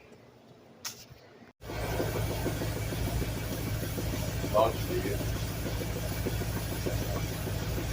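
A Jeep rat rod with an exhaust leak underneath near the transmission starts up and settles into a steady, rough idle after a brief quiet moment and a short spoken command.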